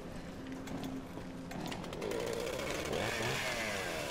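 A chainsaw enemy in the video game Resident Evil Revelations 2 roars with a steady buzzing engine that grows louder and revs harder partway through, close and alone with no talk.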